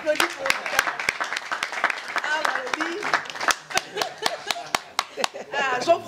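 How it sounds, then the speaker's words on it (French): Scattered, sharp handclaps from a small group, uneven in rhythm, with people talking and calling out over and between the claps. "on applaudit pour lui."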